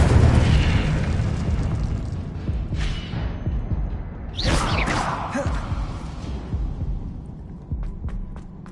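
Incendio fire spell explosion in Hogwarts Legacy, a loud rumbling burst that fades, followed by a second sharp whooshing blast and dwindling crackles, with no speech.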